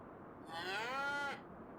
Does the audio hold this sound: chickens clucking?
no